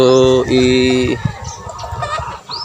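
Chickens in a small fowl coop cluck and call loudly and close by, with sustained tonal squawks followed by busier overlapping clucks and chatter from several birds.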